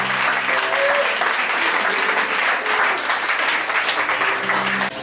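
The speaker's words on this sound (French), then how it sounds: "on acclame très fort le Seigneur de Dieu" A church congregation applauds loudly and continuously for the Lord, a dense wash of clapping with cheering voices mixed in. It eases off only at the very end.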